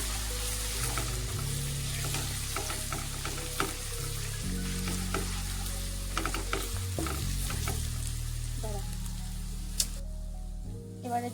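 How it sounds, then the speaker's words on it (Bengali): Thick spice paste stirred and sautéed in a pan for Kolkata-style mutton kosha, a Bengali mutton curry, with a steady close sizzle and repeated scraping strokes of the spoon, continuous throughout. "একদম মশলাটাকে ভালো করে কষে নিতে হবে।"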